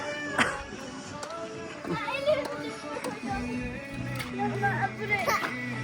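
A cat meows a few times near a small mini amusement park ride, the cries mixed into background chatter and children's voices.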